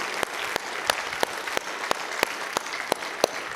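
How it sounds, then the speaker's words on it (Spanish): A church congregation claps in unison during a sermon, giving sharp, evenly spaced claps about three per second in a steady rhythm, moderately quiet over a soft room background. "Dale un fuerte aplauso al Señor"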